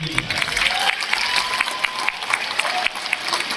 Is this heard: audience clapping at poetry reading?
yes